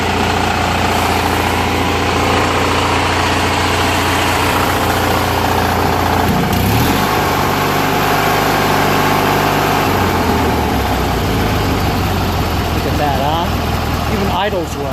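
A Briggs & Stratton 16HP opposed-twin engine on a Murray riding mower idles with a steady, loud, vibrating drone, its tone shifting briefly midway; a voice is also present over the engine.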